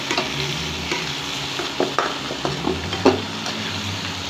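Tomatoes frying in a pan of hot oil while being stirred, a steady soft sizzle broken by scattered scraping strokes of the spoon, close and with no talk.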